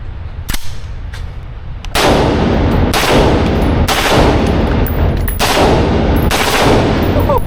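Fully automatic ARP pistol fire in loud, sustained bursts, five or six heavy volleys with short gaps between them, close and dominant throughout.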